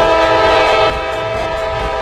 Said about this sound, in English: Shaker, that is the train horn from a train outside